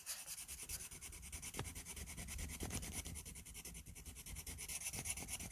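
A SOL Phoenix multi-tool blade is rubbed back and forth on a worn diamond sharpener, a quiet, close, steady grinding scrape in repeated strokes.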